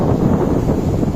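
Wind buffets the microphone in a steady, loud roar with gusty fluctuations on the Algarve coast, no voices present.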